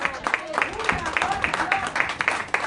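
A church congregation claps during a Spanish-language service, the moderate, irregular claps mixed with murmured voices and a tonal sound in the background.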